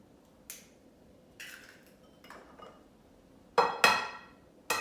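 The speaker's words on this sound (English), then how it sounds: "And now I'm going to crack 1 egg." An egg is cracked while cooking with crushed garlic, heard as several sharp, close taps and clicks of shell against a hard edge, spaced irregularly, with the loudest pair near the end.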